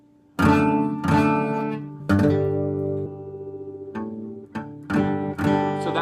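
Electric guitar strumming chords from a rock song, including a G-like chord with a low G bass note: several crisp strummed hits in a short rhythmic pattern, close and clear, with no talking.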